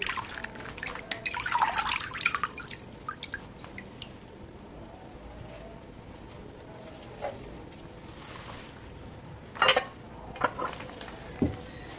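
Ajwain leaves being washed by hand in a bowl of water, soft splashing and sloshing early on, then quieter drips and a few sharp clinks and splashes, close and fairly faint.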